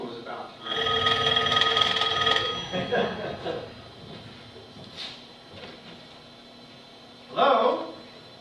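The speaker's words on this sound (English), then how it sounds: "said that the phone was about to ring" A telephone bell rings in a long burst and then again more briefly, with speech and a low hum in between.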